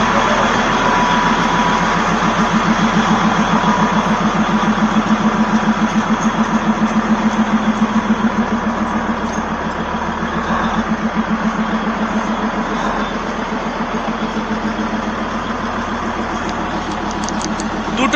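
An NDM6 diesel locomotive idles at a station on the Darjeeling line, giving a steady, rumbling, pulsing drone that holds close and loud throughout.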